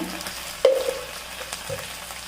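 Onions with ginger garlic paste fry on a high flame, giving a soft continuous sizzle punctuated by a couple of brief stirring knocks.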